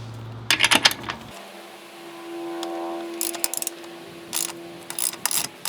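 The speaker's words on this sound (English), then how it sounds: "So we start by loosening the rear axle, and this needs a 27mm socket." A ratchet socket wrench with a 27mm socket loosens the rear axle nut on a Suzuki GSX650F motorcycle: rapid clicking bursts at the start and later, with a steady hum in between.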